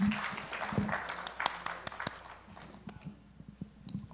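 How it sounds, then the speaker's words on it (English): Audience applause welcoming new counselors at a church club induction service, a burst of clapping that thins into scattered separate claps, with murmuring voices present. "Let's give a round of applause as we welcome them into our Kissimmee Club."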